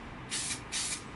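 A spray paint can hisses in two short bursts about half a second apart while coating a BMW R80/7 motorcycle seat, close up and with no voice.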